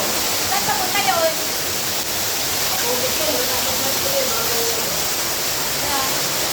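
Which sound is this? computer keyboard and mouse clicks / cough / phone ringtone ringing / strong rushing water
strong rushing water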